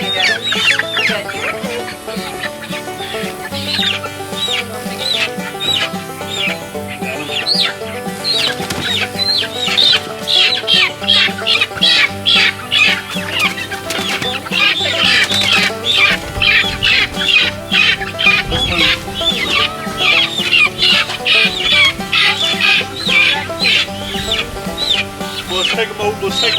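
Chickens and guinea fowl being carried into a hoop coop squawk and cluck loudly and without pause, with bursts of flapping wings and faint voices in the background.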